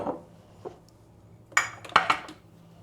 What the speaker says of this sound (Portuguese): Eu tô lavando a louça com bicarbonato e vinagre.